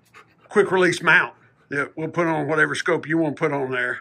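A dog pants and whimpers close by, breathy huffs and small whines mixing with a voice talking about a rifle setup.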